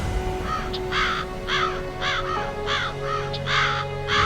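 Several crows call with repeated harsh caws in a regular series of about eight bursts, fairly close and clear over a low background hum, with no speech.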